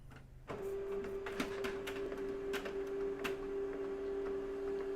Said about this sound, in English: It's making printer noises.